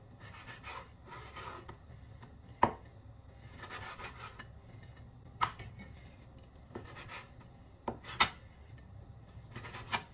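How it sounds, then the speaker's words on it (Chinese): A knife slices pork into thin shreds on a cutting board: repeated soft scraping strokes in short bursts, punctuated by several sharp taps of the blade on the board, close and fairly quiet. "然后切成肉丝"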